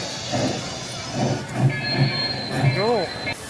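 A small tourist train pulls out of a station at ICON Park in Orlando, Florida, wheels rumbling in slow rhythmic clacks, then a brief rising squeal and a high whine near the end.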